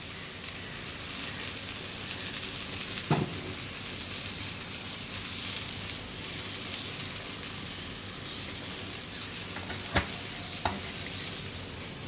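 Okra stir-frying in a little oil for a poriyal gives a faint, steady sizzle throughout, broken by a few soft stirring knocks.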